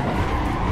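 Tires skid and hiss steadily as a Ferrari slides sideways in an Assetto Corsa drift session, a brief close, continuous scrub with no voices over it.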